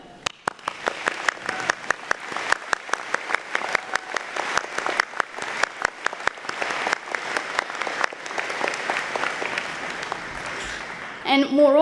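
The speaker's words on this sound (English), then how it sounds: "So let's give a round of applause to them." Sustained applause from a graduation convocation audience, dense rapid clapping filling the hall with sharp individual claps standing out, steady for about eleven seconds before a brief change at the end.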